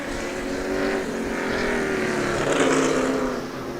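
Loud race cars roar past on the Sebring circuit during a rainy qualifying session, their engine notes rising and falling as they pass close by, with one sweeping by prominently near the end.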